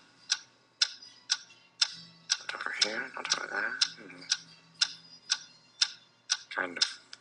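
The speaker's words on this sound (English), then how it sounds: "What is that mysterious ticking noise?" A mysterious steady ticking, clock-like and evenly spaced about twice per second, runs throughout while a voice talks over the middle and end.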